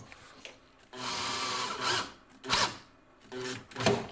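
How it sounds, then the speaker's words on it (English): A power drill drives 25mm screws through 18mm flatpack kitchen unit panels in four separate whirring bursts of varying length, close and fairly loud, with short pauses between them. "Screw them together and that gets it tight."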